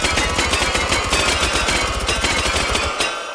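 A PP2000 submachine gun chambered in 9x19 Parabellum fires one loud, sustained automatic burst of rapid, evenly spaced shots for about three seconds, then cuts off abruptly.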